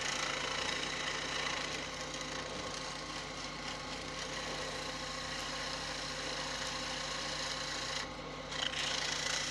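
A eucalyptus wand spins on a wood lathe while sandpaper is held to it through increasing grits, giving a steady close rubbing rasp over the motor's constant hum, with a short dip in the sound near the end.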